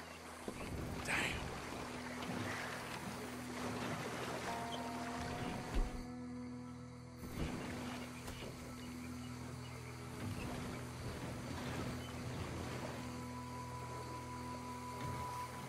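A small wooden skiff drifts on bayou water in Red Dead Redemption 2, with soft, quiet water lapping and gentle hull creaks over a low steady background hum, plus faint distant sounds.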